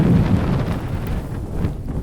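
Strong wind gusting across an open outdoor spot and buffeting the microphone as a steady low roar with swelling rushes, loud and unbroken, with no voices heard.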